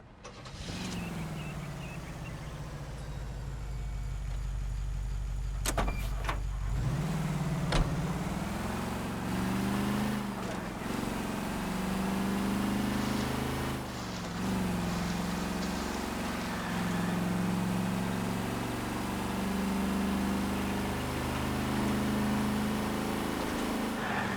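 A truck engine in L.A. Noire turns over at the start, then drones steadily with rising and falling pitch as the vehicle is driven through gear changes, loud and continuous with no talk.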